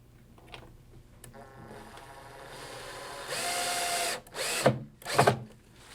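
A cordless drill drives in short bursts while attaching an anti-tip bracket to the top of a cabinet, a rising whine with a steady run followed by two sharp separate pulses, close and loud with no talk.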